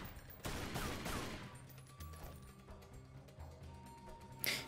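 Gunfire in the video game Tomb Raider Legend, a fairly quiet patter of shots and mechanical clicks over a low game soundtrack, with a short louder burst near the end.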